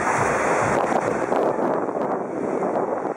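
Ocean surf on the beach at Santa Cruz, a steady loud wash of breaking waves with wind buffeting the microphone throughout.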